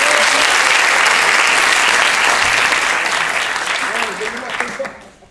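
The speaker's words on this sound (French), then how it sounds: "on peut les applaudir une fois, s'il vous plaît," Loud, dense applause from a festival crowd at a Paris improv theatre show, sustained at full strength before gradually thinning and fading out near the end, with faint voices beneath.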